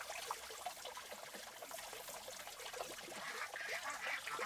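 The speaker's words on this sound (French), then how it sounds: "J'arrose abondamment la zone." Pond water is poured from a container onto garden soil in a greenhouse, a soft, continuous trickling and splashing at low volume.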